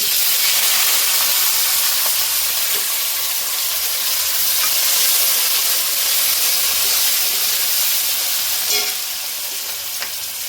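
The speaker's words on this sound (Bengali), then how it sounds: "দেখুন পেঁয়াজ, কাঁচা লঙ্কা, টমেটো ভেজে নিয়েছি" Onions, green chillies and tomato fry loudly in a hot pan with black cumin seeds, giving a dense, continuous sizzle and hiss close up, with faint stirring clicks and no talk.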